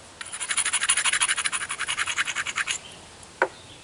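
Obsidian flint-knapping preform edge ground against a sandstone grinder: a close, steady run of about twenty rhythmic rasping strokes that stops abruptly, followed by a single sharp tap.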